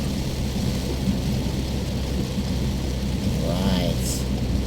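Heavy rain pours steadily around a vehicle on EDSA toward Mandaluyong, with a deep thunder rumble rolling under the downpour and a short burst of traffic noise near the end.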